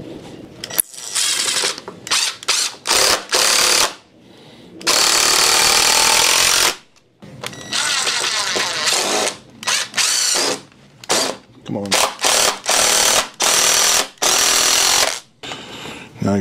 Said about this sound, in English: we're gonna put in two screws on each side just to secure it